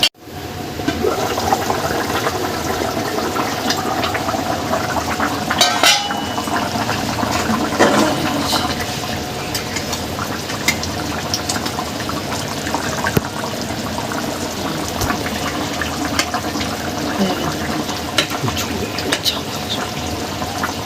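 Bengali rui fish curry with papaya and potato boils in a pot, giving a loud, steady bubbling rush that runs unbroken from start to finish with no voices.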